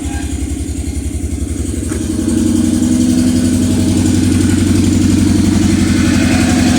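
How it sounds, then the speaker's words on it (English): A car engine with a constant, steady misfire idles close by, a loud, even, pulsing rumble with no voices over it. "it has a constant, steady misfire"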